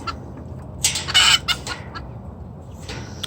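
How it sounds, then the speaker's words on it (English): Bantam chickens in a small suburban homestead flock of about nine birds cluck and squawk in several bright, irregular bursts, fairly close and standing out over a steady low background hum. "And here is my Bantam flock."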